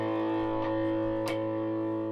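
An Aria Pro II Cardinal CS-250 electric guitar on the bridge pickup, driven through a RAT distortion pedal, rings out as a sustained, thick distorted chord with a couple of faint pick or string noises over the drone.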